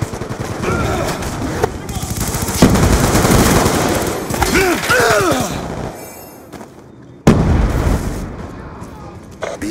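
In Black Ops 2 multiplayer, a frag grenade bursts amid close, loud machine-gun fire and rapid shots, with shouted voices and game announcer callouts over the din and a sharp blast near the end.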